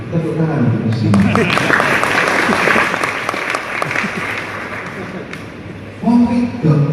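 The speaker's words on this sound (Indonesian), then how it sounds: "Tepuk tangan untuk muslimat" Audience applause for the women at a university anniversary lecture, a dense steady wash of clapping that fades as a voice resumes at the end.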